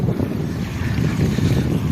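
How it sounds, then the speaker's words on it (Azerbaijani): Strong wind blows across the microphone at Lökbatan lake during a fishing trip, a loud, continuous roaring buffet with waves lapping underneath and no voices. "Küləkdir belə."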